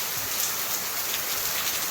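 A downpour drums on surfaces in Bathinda, Punjab: a thick, even hiss of heavy rain, close and constant throughout.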